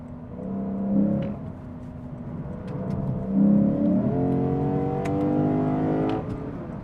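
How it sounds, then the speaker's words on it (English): A Lexus IS 500 with a naturally aspirated 5-liter V8 revs up and down in several rising, falling sweeps, loud and close and heard on its own. "it has a naturally aspirated 5-liter V8 producing 472 horsepower out of the rear wheels"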